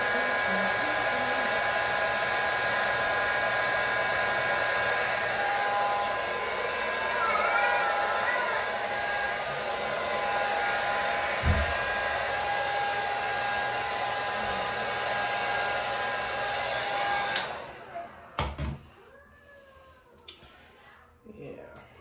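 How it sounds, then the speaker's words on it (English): A handheld blow dryer roars steadily for about seventeen seconds, drying holding spray on a hair track, then cuts off, leaving faint room sounds. "Hit it with the blow dryer."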